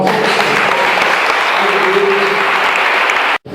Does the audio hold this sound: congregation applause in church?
yes